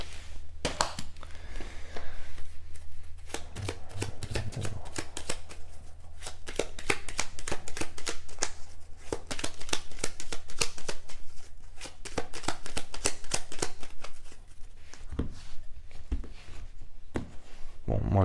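Fortune-telling cards are shuffled by hand in a clairvoyance reading, a long run of close, crisp riffling and tapping in quick irregular bursts with brief pauses, and a little faint talk.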